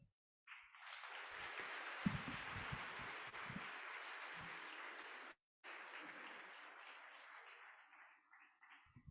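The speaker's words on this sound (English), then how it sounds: "Another round of applause, please, as he takes his seat" Audience applause fills a school career day event hall in Sekhukhune, Limpopo, a steady broad wash of clapping lasting several seconds, briefly cutting out before resuming and slowly tapering.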